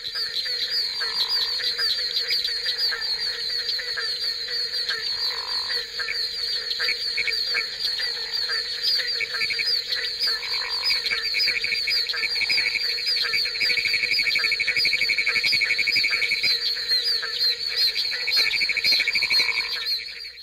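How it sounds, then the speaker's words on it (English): A dense night chorus of frogs in Highlands County, Florida, with barking tree frogs repeating regular low hollow calls over a constant high trilling and whistling from other species, steady and loud throughout. "The barking tree frog is easily recognizable in a chorus recorded in Highlands County, Florida"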